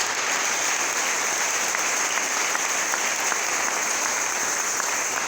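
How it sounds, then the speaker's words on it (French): Steady, dense applause from a church congregation fills the room at an even level throughout, a continuous wash of clapping with no pauses and no voices standing out. "Est-ce qu'on peut donner une acclamation à notre Seigneur Jésus-Christ?"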